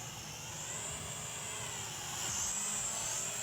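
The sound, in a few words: Snaptain SP500 foldable GPS FPV drone flying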